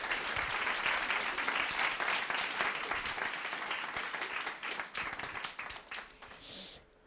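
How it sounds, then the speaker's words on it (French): A book launch evening audience breaks into loud, sustained applause that fills the room, thinning slightly toward the end before fading out. "Donc on va lui faire un gros tonnerre d'applaudissements déjà pour ça."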